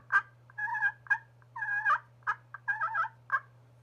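A striker and slate turkey call, played loud, gives an irregular run of sharp clucks and longer raspy yelps over a faint steady hum, with no voices.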